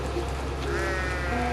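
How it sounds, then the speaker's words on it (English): A pet sheep bleats close and loud in a drawn-out wavering call, heard alone over a steady low background hum. "That's my sheep"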